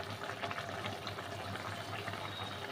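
Fish curry broth with potatoes simmering in a cooking pot, giving a steady low bubbling and liquid churn at moderate level, continuous and without speech.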